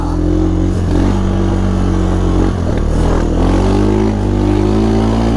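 A Honda Fourtrax 300 ATV engine runs at full throttle in second gear through snow, its loud, steady drone close and continuous and holding a constant pitch, with a couple of brief knocks.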